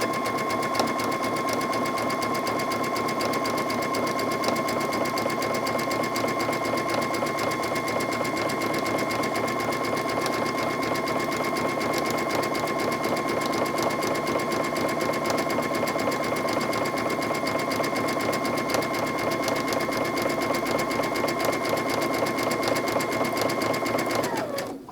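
A sewing machine runs a very short zigzag stitch around an appliqué piece, a steady, close, continuous mechanical whir with a rapid regular needle beat that holds unbroken for the whole stretch and stops abruptly at the end.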